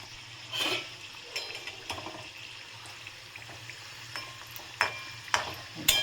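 Singaras frying in oil in a pan over a low flame: a soft, steady sizzle with occasional gentle scraping as they are turned, close and quiet, with no talk.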